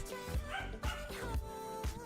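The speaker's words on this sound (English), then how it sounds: "You hear the dog? That's Kala." Kala, a pet dog, barks in short repeated bursts about every half second under steady background music, set back from the microphone and moderately loud.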